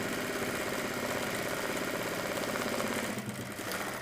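An industrial sewing machine stitching a straight seam with no hands on the fabric, a continuous mechanical hum and whir with a fast rhythmic rattle, steady and close throughout, easing slightly near the end.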